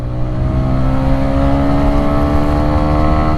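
A TVS Raider 125 motorcycle in power mode revs loud and close, its engine note holding a strong, steady harmonic drone throughout.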